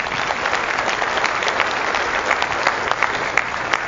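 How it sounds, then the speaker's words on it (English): An audience at a business seminar applauds, a loud, continuous clapping from a crowd close by, with no talk over it. "give them a round of applause for that."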